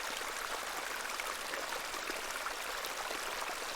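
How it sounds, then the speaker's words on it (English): A small stream, a beck, flowing steadily in a video game scene, a continuous soft broadband babble of running water with no breaks, fairly quiet and even throughout. "This is a lovely little beck."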